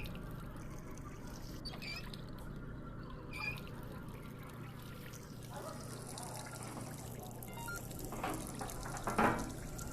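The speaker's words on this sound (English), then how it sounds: "let's just gonna add more water" Water trickles from a kitchen tap into a cooking pot, a soft continuous flow with light clinks and faint background noise.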